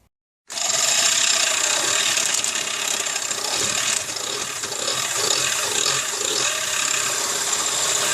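A hole is drilled through a trike front end brace: a loud, steady grinding whir that starts abruptly and runs unbroken to the end, close up with no talking.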